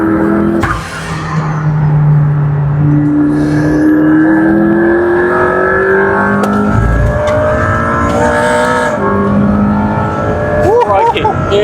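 McLaren P1 supercar driven flat out, its engine roaring loudly and climbing steadily in pitch through sustained acceleration with brief gear-change dips, heard from inside the car while people talk over it.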